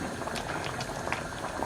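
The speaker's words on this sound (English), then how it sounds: "I'm checking on my stew, and as you can see, it's boiling right down to exactly where I want it to be" A pot of stew peas boils vigorously at close range, a dense continuous bubbling and popping of thick liquid with no voice over it.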